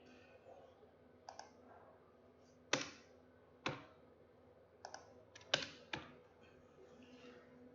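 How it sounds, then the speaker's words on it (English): Keys clicking on a computer keyboard while an answer is typed, a sparse, irregular series of about eight sharp taps over a faint background hum, close and fairly quiet. "And then I will type the answer"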